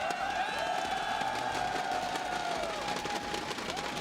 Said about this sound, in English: crowd's pretty excited to see Jaedong come back